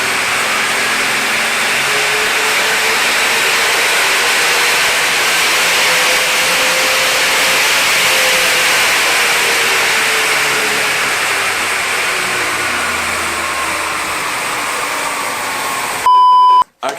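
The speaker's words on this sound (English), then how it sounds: "Right, so we're ready to go for the dyno run." An Audi S5 engine on a dyno runs in one long, rising and falling pull, a broad steady roar that climbs and eases over several seconds, ending in a brief electronic beep.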